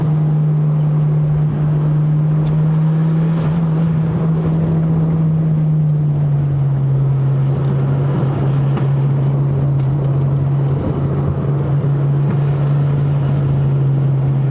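A turbocharged 20-valve 4AGE engine in a Toyota Corolla AE100 drones steadily as the car drives a mountain road in Malaysia, with a loud continuous hum that drops slightly in pitch midway and wind noise over it.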